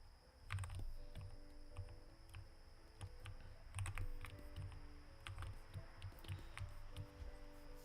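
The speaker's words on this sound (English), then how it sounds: "this is a Work Louder Nomad keyboard" Keys clack on a Work Louder Nomad keyboard in irregular bursts of typing, close and fairly quiet, with brief pauses between flurries of taps.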